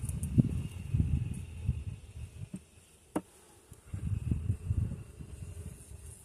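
Honey bees buzzing in an opened hive nucleus, a low droning hum that swells and fades in waves, with one sharp click midway and a quieter lull before the buzzing builds again.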